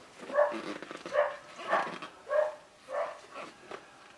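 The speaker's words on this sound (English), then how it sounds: "Sorry about the dog barking," A distant dog barks repeatedly, about six barks in a loose, uneven rhythm, quiet against an otherwise still background.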